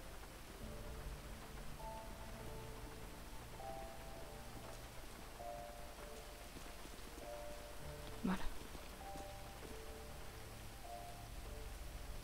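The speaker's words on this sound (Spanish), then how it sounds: "La lluvia es lo mejor que me ha venido este día." Steady rain falls in a GTA V roleplay scene, a soft continuous hiss running throughout with faint tonal background hum and one brief louder knock near the end.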